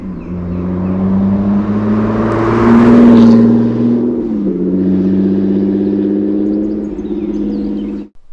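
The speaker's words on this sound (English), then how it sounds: "Welcome to Mike's 1974 Triumph 2500 Estate." 1974 Triumph 2500 Estate car engine pulling under load, a loud steady drone that rises in pitch as it accelerates, dips briefly with a gear change, then settles and cuts off at the end.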